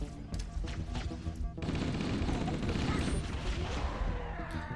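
Rapid bursts of gunfire from the video game Halo CE, dense and loud over booming in-game action, with a short quieter gap before the firing resumes heavier.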